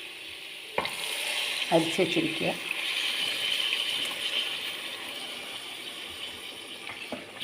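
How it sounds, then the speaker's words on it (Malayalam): Tamarind water is poured into a hot cooking pan over tomatoes. There is a clatter, a few splashes and gushes, then a sustained sizzle and bubbling. A voice speaks briefly over it. "ഇനി നമുക്ക് പുളിവെള്ളം ഒഴിക്കാം."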